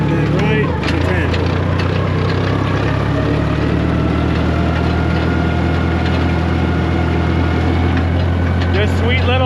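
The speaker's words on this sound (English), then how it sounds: "Just sweet little 4-cylinder Ford sounds, essentially." A Ford 881 tractor's 4-cylinder engine runs steadily at high throttle in top gear, a loud continuous drone with a muffler dumping behind the rear axle, holding an even tone throughout with faint background rattles.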